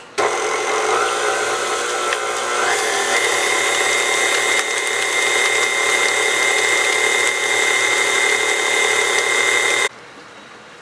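An electric mixer churns chocolate chip cookie dough with a steady, loud mechanical whir that runs for about ten seconds before cutting off.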